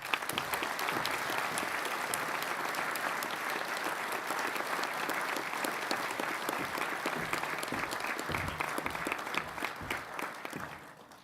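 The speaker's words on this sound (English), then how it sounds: "Could you join me with a round of applause?" A graduation ceremony audience at Forth Valley College gives a sustained round of applause, dense steady clapping from a large hall crowd that holds for about ten seconds before thinning out at the end.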